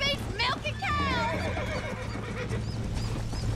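A horse in the video game Red Dead Redemption gives a loud, wavering whinny near the start, with hoof clip-clop and game sounds continuing underneath while a voice talks over it.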